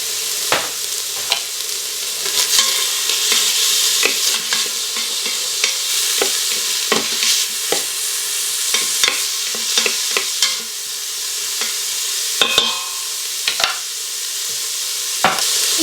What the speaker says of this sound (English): I'm gonna go ahead and put our bacon in to our Instant Pot. It's on saute mode.